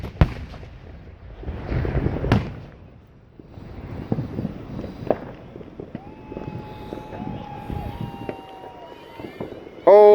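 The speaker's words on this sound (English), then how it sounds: "I don't think that big fireball was supposed to go off." Fireworks going wrong and erupting in a large fireball, with several loud bangs and crackling bursts at varying distances over about ten seconds. A siren wails in the background and people can be heard nearby.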